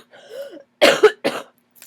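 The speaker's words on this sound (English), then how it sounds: "I also apologize for my cough or if I sound a little bit congested." A short throaty hum followed by two harsh, loud coughs close up, then silence.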